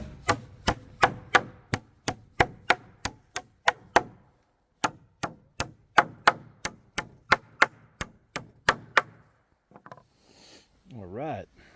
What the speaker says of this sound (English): I'll get some nailing action going on here.